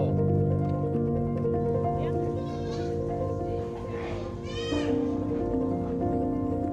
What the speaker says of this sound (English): A lot of people come from far away to see the goats, and they're really amazed.